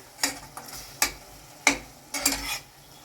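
A spoon scrapes and stirs through curry seasoned with garam masala in a pan, in four or five distinct scraping strokes close by, with no talking.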